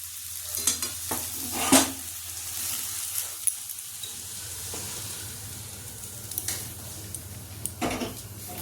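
Kachki fish sizzling in a frying pan as a spatula stirs it, with scraping clinks against the pan, a steady low hiss and a few sharper bursts, close and fairly quiet, with no one talking.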